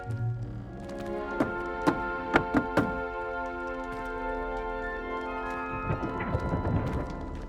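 A barrel in Hogwarts Legacy is tapped in the Hufflepuff rhythm, a run of hollow wooden knocks in an uneven pattern of about five distinct raps over a soft musical background, followed by a brief magical shimmer.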